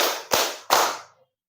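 A class claps hands together in rhythm: three sharp, loud group claps at an even pace, each ringing briefly in the room before fading to silence.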